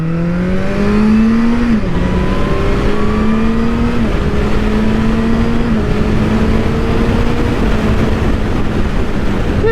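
A Suzuki Gixxer 750 motorcycle accelerates hard near the beach at Camber Sands, its loud engine rising in pitch through several quick-shifter gear changes with short dips between them, steady and close with no talking.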